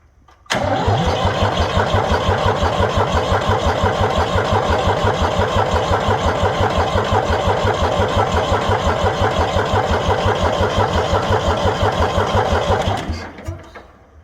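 A Ford 3000 tractor engine catches on the starter and settles into a loud, steady, rapid diesel chugging, close up and running unbroken for about twelve seconds before cutting off abruptly.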